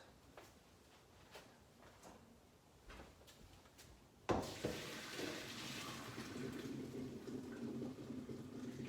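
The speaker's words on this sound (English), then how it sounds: "Let me drain the water from these potatoes." Boiled potatoes being drained, with water suddenly pouring out midway and a steady splashing rush continuing to the end after quieter clinks and kitchen handling.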